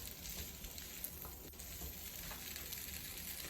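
Potatoes sauté in a pan with a constant, even frying hiss up close, no voices over it.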